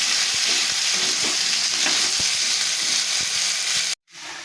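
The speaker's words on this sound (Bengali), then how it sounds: "কিছুক্ষণ ভাজা করে নিই" Taro and potato pieces sizzle loudly and evenly in oil, with occasional stirring taps, before the sound cuts out abruptly near the end.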